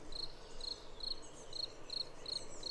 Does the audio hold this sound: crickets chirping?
yes